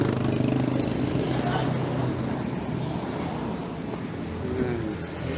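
A motorcycle carries a rider in a political motorcade for Senator Trillanes. A steady engine drone blends with heavy wind rush for several seconds, with crowd noise faint in the background.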